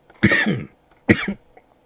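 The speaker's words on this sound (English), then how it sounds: "After the cough." Two distinct coughs about a second apart, close and fairly loud, with a short silence between and no talking.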